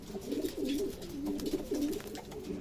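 A pigeon coos softly in repeated low, rolling phrases, nearby and steady, with light background noise.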